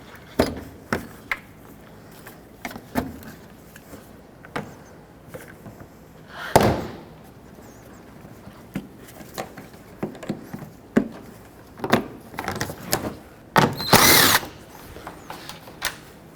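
Plastic push clips are pried off a 2007-2010 Chrysler Sebring front bumper cover, making scattered close clicks, snaps and scraping rustles, with a louder cluster of pops near the end.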